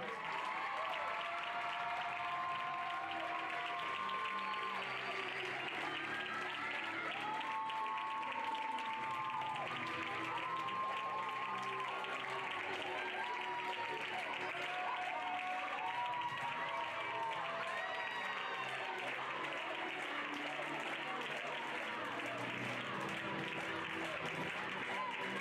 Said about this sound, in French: Allez, vous pouvez les applaudir bien fort.